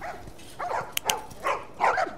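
A dog in The Last of Us barks in several short, mid-loud bursts spread across a quiet stretch of a survivors' camp, with no talk over it.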